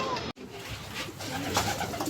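Racing pigeons cooing as they arrive back at the loft after a smash race in Bayombong, Nueva Vizcaya, with soft repeated coos and bird calls over steady outdoor background noise, broken by a brief dropout.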